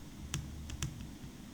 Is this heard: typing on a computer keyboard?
yes